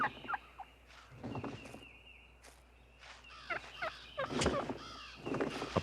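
Wild turkey toms gobble repeatedly during their strutting display, several rattling calls overlapping at moderate distance, with faint rustling between them.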